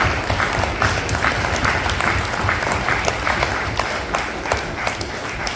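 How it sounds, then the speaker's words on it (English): Audience applause at a gathering, steady dense clapping from many hands sustained throughout, loud and close with no speech over it. "Give yourself a round of applause."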